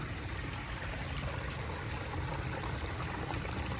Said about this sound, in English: Just a little creek.